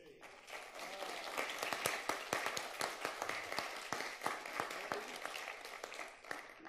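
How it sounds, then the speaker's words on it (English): A morning conference audience gives a round of applause, a dense spread of individual claps with sharp louder hits standing out, steady and moderately close, with faint voices mixed in. "if you can give me a fresh morning round of applause for John Kinnaman"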